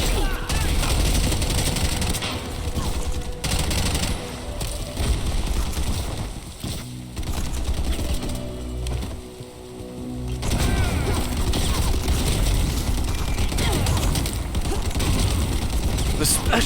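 Shotgun loaded with special ammunition firing in the sci-fi shooter Bright Memory Infinite, loud repeated blasts amid dense combat noise and a busy game soundtrack, with a brief quieter lull midway before the fighting swells again.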